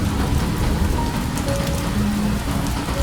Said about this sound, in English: and the sound of rain.